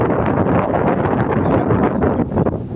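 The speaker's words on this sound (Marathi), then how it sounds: "प्रचंड वाऱ्याचा वेग आहे" Strong wind sweeps across a sugarcane field in Marathwada, buffeting the microphone with a loud, low, continuous rumble that roars unbroken without voices.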